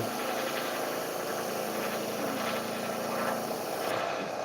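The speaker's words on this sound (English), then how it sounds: "I'm going to keep my hand over this and slowly part this off using the skew" Wood lathe running at about 1600 RPM while a skew chisel parts off a Christmas ornament of reclaimed wood, a steady loud whir and hum with a thin cutting hiss over it, close and continuous.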